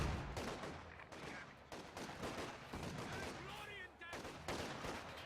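Gunfire in a Company of Heroes 2 battle, with rapid bursts of shots and small-arms volleys crackling over mid-level battle noise, with a few whining tones.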